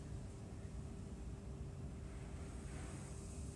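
A homemade bath bomb made with Epsom salts fizzes in warm bath water, giving a soft, continuous hiss that stays steady and fairly faint throughout.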